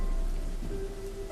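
Heavy monsoon rain pours over farm fields in Nepal, a dense, continuous hiss of drops striking surfaces with a low rumble beneath and a faint steady tone, no voices.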